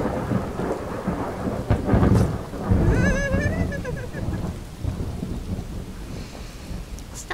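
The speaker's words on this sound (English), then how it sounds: "The thunder is very loud in Skyrim." A rumble of thunder in Skyrim rolls beneath steady rain, swelling loudly midway, with a brief high warbling tone, then easing back into the downpour.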